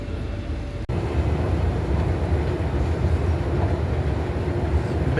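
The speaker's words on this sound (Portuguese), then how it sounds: "Olha só como é que é o metrô daqui, gente." An Istanbul metro subway train heard from inside, with a steady low rumble and broadband rolling noise throughout, loud and continuous, with a brief dropout near the start.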